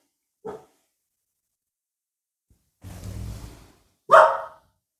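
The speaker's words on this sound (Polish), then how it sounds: "Co piesku?" A few short dog barks or yips, separated by pauses, with a brief rustling noise in between; close by and no talking.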